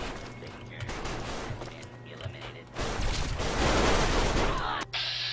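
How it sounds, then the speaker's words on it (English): Gunfire in the video game Fallout 3, a dense burst of rapid shots and crashing impacts that swells louder midway and stays busy throughout, with no clear speech. "you can hear the gunshots over here"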